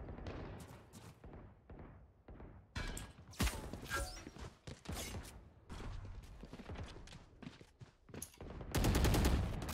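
Gunfire rattles in the tactical shooter game Valorant during a collegiate tournament match, with several rapid bursts and single shots in close succession and a loud, dense burst at the end.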